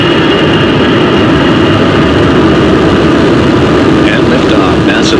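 Falcon 9 rocket engines at liftoff on a cargo resupply launch to the space station, a loud, continuous low roar with broadband rumble sustained throughout, crackling slightly toward the end.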